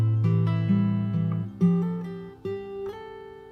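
Fingerstyle acoustic guitar plays the closing phrase of a song, with ringing bass notes under a short melodic line of plucked notes, played close and alone.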